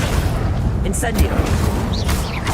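Incendio fire spell cast in Hogwarts Legacy, dense low booms and crackling bursts of flame packed together, loud and close, with a voice calling out over the combat noise.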